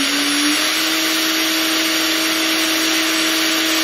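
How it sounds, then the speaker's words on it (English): A DIY CNC router spindle spins at 20,000 RPM with its top cooling fan blowing hard, making a loud, steady whine and rush of air. The pitch rises briefly at the start, then holds constant. "Actually, the noise that you can hear is the fan on the top."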